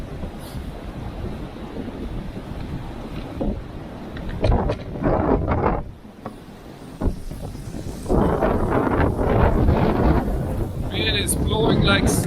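Strong gusty west-southwest wind at an outdoor rifle range buffets the microphone in uneven roaring bursts and lulls, with some talk mixed in.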